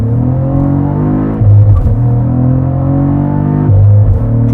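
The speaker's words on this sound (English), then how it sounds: "That sound between the shifts." Loud, close engine drone from a 2022 Cadillac CT4-V Blackwing under hard acceleration, a steady harmonic growl that drops and lurches at two gear shifts before building again.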